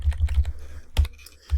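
Computer keyboard typing, a quick burst of close, crisp key clicks followed by a pause and two more separate taps, in a quiet room.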